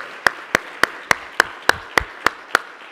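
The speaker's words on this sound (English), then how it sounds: "So one more round of applause as our friends are able to take their seats." An event audience claps in steady unison: about ten sharp, evenly spaced claps, crisp and fairly close, with a quiet murmur of the room underneath.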